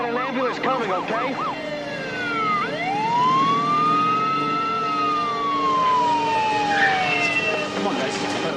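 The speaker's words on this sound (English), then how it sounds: "we got an ambulance coming" An ambulance siren wails in long rising and falling sweeps at moderate distance, its pitch gliding smoothly and then changing pattern, amid a busy outdoor scene with a low background murmur.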